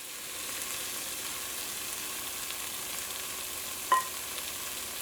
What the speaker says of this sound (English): Now I'm going to allow it to fry up in that curry powder mixture.